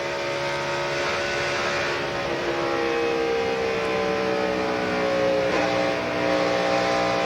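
NASCAR stock cars from the 2000 DirecTV 500 scream around the track, a steady dense engine roar with rising and falling pitch sweeps as cars pass, continuous and loud throughout.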